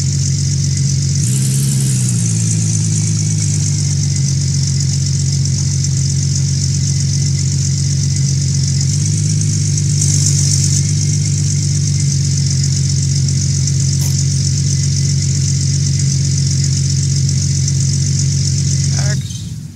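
Vehicle engine in the Gold Rush video game, a loud continuous mid-pitched drone with a whining tone, holding steady while driving with a slight rev early on and a brief swell midway.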